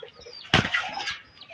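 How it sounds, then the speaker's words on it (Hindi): A hen beside a clutch of hatching eggs gives a sudden burst of wing flapping and rustling with short clucks, near and brief. "ये देखें, ये जी मुर्गी है माशाल्लाह"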